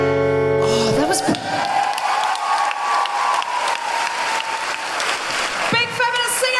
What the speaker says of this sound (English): Big round of applause for Jane and Madalena.